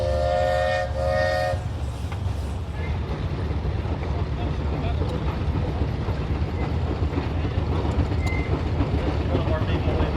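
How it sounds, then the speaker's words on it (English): Steam engine whistle at a farm show with steam tractors, sounding a short double blast near the start, then fading into steady engine and crowd rumble. "How about a whistle, David?"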